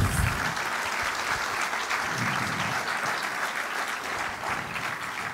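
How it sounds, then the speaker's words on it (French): Sustained applause from a large audience at an Alsatian football awards ceremony in the Royal Palace, a thick, even roar of clapping that holds steady throughout with no talk over it. "je vous demande de l'applaudir"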